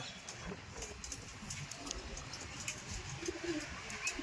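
Male pigeons coo softly at close range in a continuous low murmur, with light shuffling and tapping noises mixed in.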